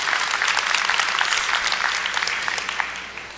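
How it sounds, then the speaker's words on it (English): Sustained applause from a crowd, steady clapping that gradually tapers toward the end. "Round of applause."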